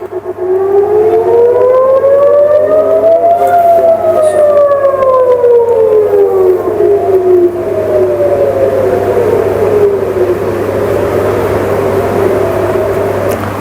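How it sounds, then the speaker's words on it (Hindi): A loud civil-defense air raid siren wails continuously in Tel Aviv, its pitch rising and falling slowly, with other sirens and a low steady hum behind it. "ये वीडियो भी है जिसमें सायरन हर तरफ सुनाई दे रहे हैं।"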